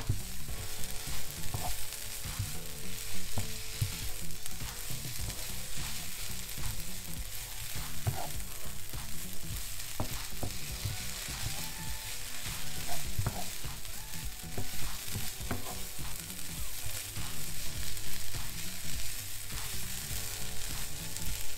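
Chicken and almond pastilla filling with raisins sizzles steadily in a pan. Irregular scrapes and clinks of a utensil stir it throughout, close and continuous, with no voices.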